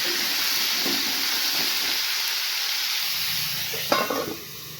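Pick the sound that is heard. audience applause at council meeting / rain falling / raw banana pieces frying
raw banana pieces frying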